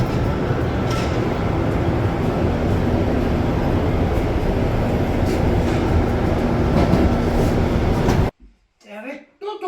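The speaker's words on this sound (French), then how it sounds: "On est dans le métro." A metro train rumbles through the subway, loud and steady with faint rail clatter, the noise dropping away at the end as voices talk briefly.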